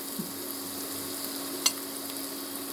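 Onions fry in a pan with grated carrots just added, giving a steady, moderate sizzle throughout with one small stirring clack midway and no talk.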